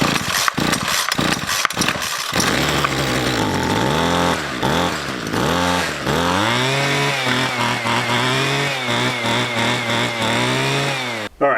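A Ryobi two-stroke string trimmer with a newly replaced carburetor is pulled over a few times, then catches and runs loud, revving up and down before settling into a steady buzzing idle.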